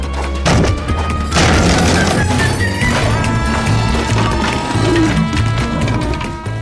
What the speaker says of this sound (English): He then viciously smashed the bed again and again.